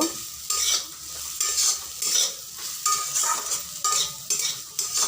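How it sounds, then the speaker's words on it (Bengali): Sweet pumpkin slices frying in oil in a pan, with a steady close sizzle broken by repeated scraping stirs at a regular rhythm, no voices. "হয়ে গেছে আমার মিষ্টি কুমড়ো ভাজা"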